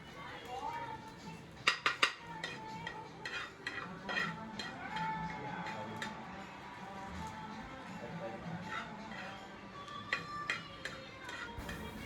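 Onion and coconut sautéing in oil in a pan for mutton rassa, soft continuous frying with scattered clinks and scrapes of a spatula against the metal, while someone talks throughout.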